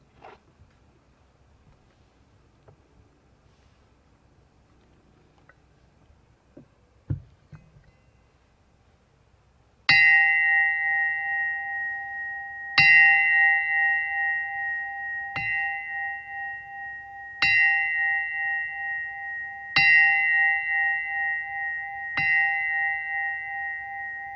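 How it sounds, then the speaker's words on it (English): After a quiet stretch with faint rustling, ceremonial chimes strike the hour of 11 at a memorial event, clear metallic bell tones ringing out at a slow, even pace, each one left to ring before the next. "listen in reverence to our chimes of the hour of 11"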